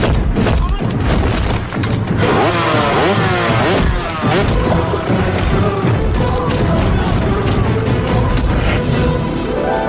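A loud motorcycle engine revs and roars up and down, with thumps and crashes amid dense, heavy noise, as a motorcycle is ridden into a house in a film scene.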